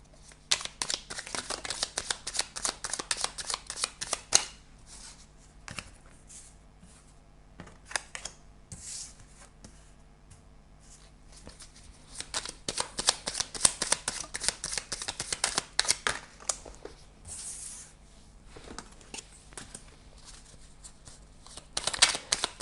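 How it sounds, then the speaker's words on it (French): Tarot-style cards from an Alias Kay 77 deck are shuffled and drawn, with bursts of riffling and soft slapping that come and go between quieter pauses, close and fairly faint. "Alors, je vais tirer 9 cartes."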